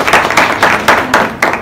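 A class claps for a student who has just explained a nine-ball light circuit, loud and close with several distinct, uneven bursts of clapping over less than two seconds.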